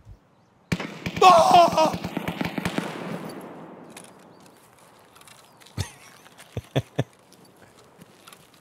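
A rapid burst of gunshots in Escape from Tarkov crackles and echoes away, followed by a few scattered single shots; a voice exclaims briefly during the burst.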